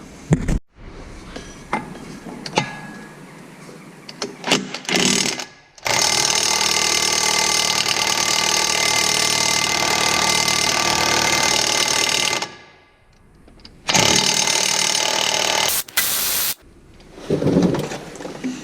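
Tools work a big nut loose on a coupling during a roadside breakdown bearing repair: a mechanical ratcheting clatter, then long, loud, steady runs of tool noise with short pauses between.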